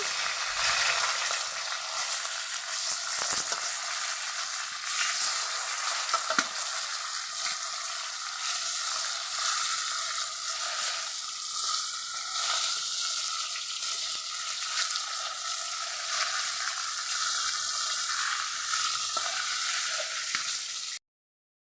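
Fish frying in a pan of hot oil as the remaining pieces are flipped: a steady, close, loud sizzle running unbroken for about twenty seconds, with small pops and scrapes mixed in, then cutting off abruptly.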